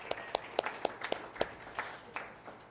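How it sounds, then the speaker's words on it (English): A small congregation at a morning service claps for themselves, a short scattering of distinct, fairly close hand claps that thins out within a few seconds. "give yourselves a little round of applause for showing up this morning"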